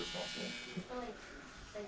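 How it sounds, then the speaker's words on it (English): Electric clippers buzz steadily while shaving hair during a barbershop haircut, a close, continuous hum running beneath a man's speech. "Shave this part up real quick."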